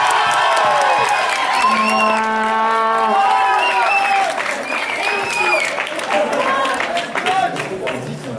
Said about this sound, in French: un maximum d'applaudissements pour Bertrand